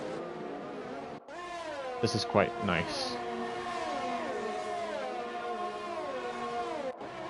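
Formula 1 car engine from the F1 2020 racing game at the Austria circuit, a high-pitched rising and falling whine with gear-shift steps running steadily throughout, with a commentator talking over it.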